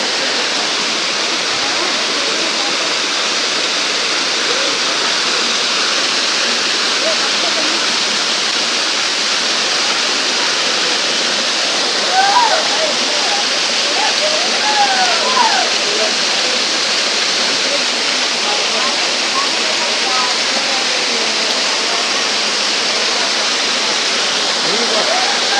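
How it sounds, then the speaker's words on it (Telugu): A waterfall at Rayikal in Saidapur mandal, Karimnagar district, Telangana, pours down from the hills in a steady, loud, broadband rush that continues unbroken throughout. "కొండల పైనుంచి వస్తున్నాయి వాటర్"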